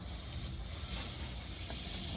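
Fried dal hisses and sizzles loudly in a hot pan of fried vegetables for veg khichuri cooked outdoors on a winter night picnic, a steady close frying noise.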